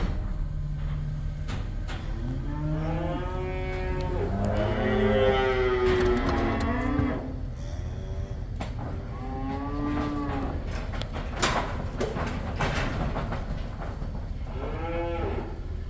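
Calves moo repeatedly at close range while being unloaded from a trailer, several drawn-out bellows overlapping, with clattering gates and shuffling livestock in a covered pen.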